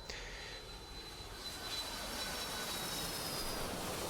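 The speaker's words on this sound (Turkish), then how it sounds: "bir uçak var şimdi kadrajda" The airplane engine in the video game Contract Ville gives a steady, moderately loud droning roar that holds throughout, with no talking.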